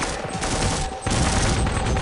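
Sustained, loud gunfire from a grenade launcher-equipped weapon in a Half-Life mod, Codename 2001, dense and continuous with a brief dip midway, no talk.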